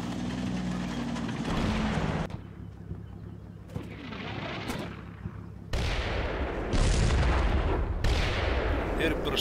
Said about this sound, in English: Airburst mortar starts striking center forest, suppressing the B company in it.